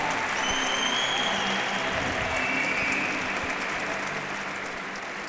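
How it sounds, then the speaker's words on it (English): A sports-arena crowd applauds climber Adam Ondra at a European lead climbing championship final. The clapping is steady and sustained, with a faint whistle or two above it, and it eases off slightly toward the end. "Adam Ondra takes the applause though, takes the win"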